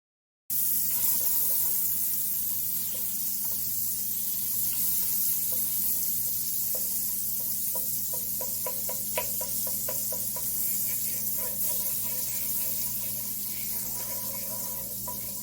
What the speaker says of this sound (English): Add some butter to the pan.